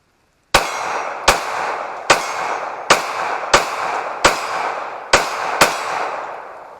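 Eight sharp, loud gunshots from a Glock 19 pistol fitted in a CAA Micro Roni brace ring out at a steady pace. Each crack rings briefly before the next shot, with no voices.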